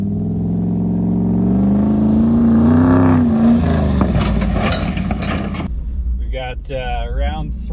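A Dodge Dakota truck engine revs hard as it tries to get traction on a weedy field, a rising roar climbing in pitch, then wavering revs and a distant engine after; voices talk briefly.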